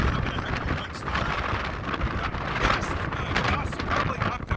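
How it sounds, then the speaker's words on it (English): Strong gusts during a windstorm in Quartzsite, Arizona, with gusts near 50 mph: rough, buffeting wind roaring against the microphone throughout, surging and easing in irregular waves. "Today we're having a heck of a windstorm."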